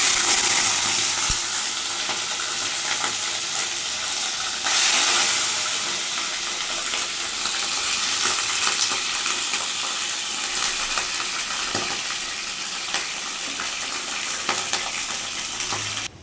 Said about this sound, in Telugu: చూడండి, ఇది బాగా వేడైపోయింది ఆయిల్. మనము సన్నగా తరుక్కున్న చికెన్ వేసేసి